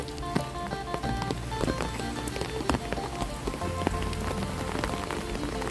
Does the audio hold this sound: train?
no